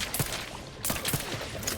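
A biomass weapon fires in the video game The Outer Worlds 2, giving a quick series of sharp, punchy shots in two or three close bursts against a busy game background.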